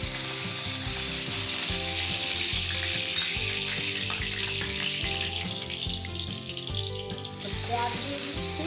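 Ghee sizzles steadily in a hot pan on a gas flame where coriander and cardamom are frying, a constant bright crackle running for several seconds beneath a layer of tonal background music.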